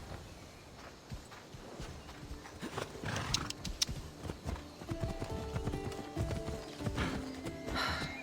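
Horse hooves clip-clop at a walk while riding in Assassin's Creed Odyssey, a steady run of soft hoof falls with occasional horse snorts and ambient game sound.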